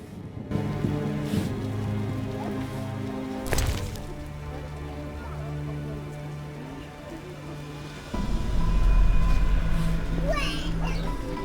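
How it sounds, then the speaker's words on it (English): Steady rain patters over a bed of musical tones in The Witcher video game, growing heavier toward the end, with a sharp hit partway through. "Raining cats and dogs."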